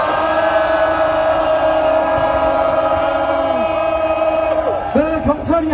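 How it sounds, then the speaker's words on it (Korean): A large crowd at a protest rally against the release of Fukushima nuclear wastewater into the sea, singing and chanting together in sustained, loud unison through an amplified sound system, ending in scattered shouts and cheers. "경찰이 함성 들리시지요?"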